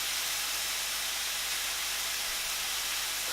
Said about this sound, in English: But now I'll just sit here and watch the steak cook.